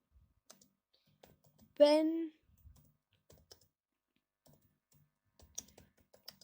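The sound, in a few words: typing C# code on a computer keyboard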